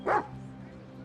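A dog gives a single short bark near the start, then a steady low hum of background sound carries on.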